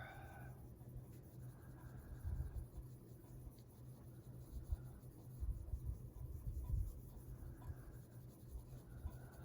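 A Prismacolor colored pencil shades across a paper coloring page with light pressure, giving a soft, continuous scratchy scraping that swells and fades with each stroke, close and quiet.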